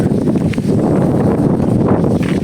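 Strong monsoon wind roars continuously against the microphone, a dense, low buffeting rush with no pauses and no voices.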